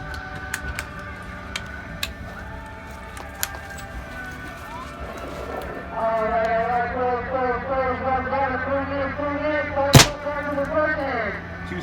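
First Strike paintball rounds fired at 450 FPS outdoors: a few sharp, scattered pops early on, then one loud, close crack near the end, with talk and background noise running throughout.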